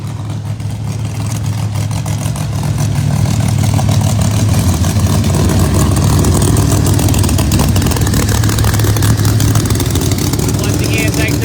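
Drag racing car engines, one built by Proline Power in the far lane, rumble and rev loudly and continuously, with a commentator talking over the steady roar.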